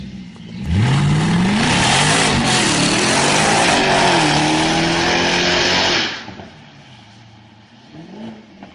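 A Jaguar XFR engine revs hard, climbing and falling in pitch through several loud, close roaring sweeps for about five seconds before dropping back to a low idle rumble.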